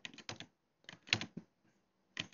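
Close, crisp clicks of computer keys, pressed in a few short bursts with brief pauses between them.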